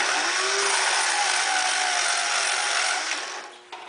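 A V tool edge grinds against a spinning wheel on a sharpening fixture, a steady, close, bright hissing rasp that holds evenly for a few seconds and then tapers off, with no talk over it.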